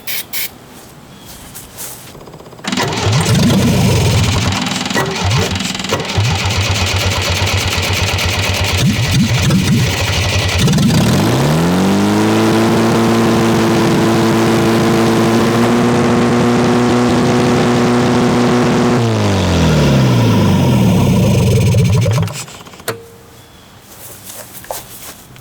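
A loud, rough MGB GT engine with no headers cranks and catches, then settles into a steady, throaty idle before shutting off, with strong low rumble throughout.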